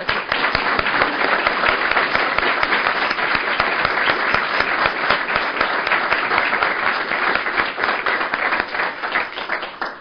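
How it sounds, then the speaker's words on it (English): A dedication ceremony audience gives a dense, loud round of applause for Dr. Penny Peer, with steady, close clapping and no pause throughout. "I think we need to give her a round of applause"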